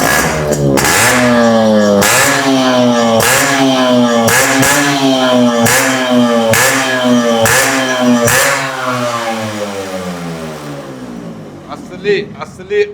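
A 1988 Yamaha RX100 two-stroke motorcycle engine revs hard and loud up close in repeated throttle blips, each burst rising in pitch and falling back, before the engine settles and winds down to a quieter idle near the end.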